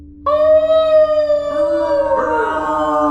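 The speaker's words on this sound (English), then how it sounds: "She howled in triumph, a sound that was echoed by a dozen other throats." A hellhound howls in a horror scene, a loud, sustained, close wavering cry that slides downward, with a second howl joining midway to echo it.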